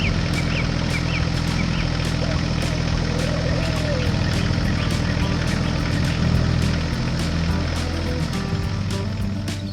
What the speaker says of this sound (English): The tractor moved slowly along a narrow, gravel road